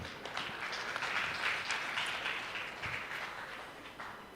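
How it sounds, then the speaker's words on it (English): Audience at a business summit applauding, a broad even wash of clapping that holds steady at moderate volume, then tapers slightly toward the end. "One more time, a round of applause,"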